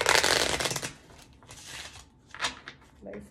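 Tarot cards shuffled by hand in a few quick riffling bursts, the loudest flurry at the start, then softer shuffles and brief pauses, close to the ear.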